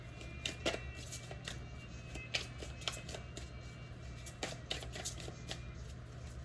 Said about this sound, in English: I'm going to pull one more from this deck.